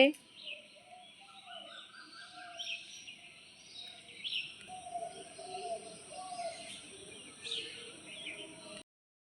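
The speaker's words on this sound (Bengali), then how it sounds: "সকালবেলাটা কেমন লাগছে তোমার ভালো লাগছে পাখির ডাক ভালো" Birds call in the early morning outdoors in a village, with intermittent chirps and cooing at moderate distance over a steady high insect-like hiss, while a person speaks softly at times.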